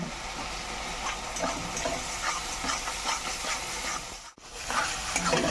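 A spice paste of ground poppy seed and mustard with a little powdered spice frying in oil for a mustard hilsa dish, giving a steady soft sizzle with light stirring scrapes and one brief dropout.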